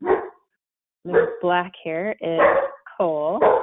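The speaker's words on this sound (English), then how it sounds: "Excuse my dog." A pet dog barks in short yelps in the background while a person speaks close to the microphone during an online presentation.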